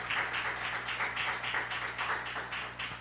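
Applause from a church congregation during a Portuguese-language worship service, a steady wash of many hands clapping with faint rhythmic pulses, moderately distant and fairly quiet throughout.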